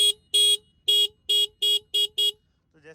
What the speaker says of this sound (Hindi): जो बाइक में हॉर्न है वो बहुत ही ज़्यादा पुअर है।